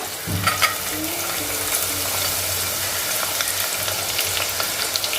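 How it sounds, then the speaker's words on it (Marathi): Chopped onion frying with whole spices such as cloves and star anise for a Malvani chicken curry, a steady, loud sizzle with occasional stirring scrapes throughout, no voices. "आता कांदा सुद्धा आपण गुलाबी रंगावरती परतून घेऊया"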